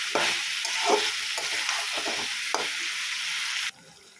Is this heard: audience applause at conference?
no